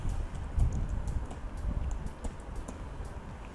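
Typing on a computer keyboard while entering a milestone description on a freelancing website, heard as a steady run of close, soft key clicks over a low background hum.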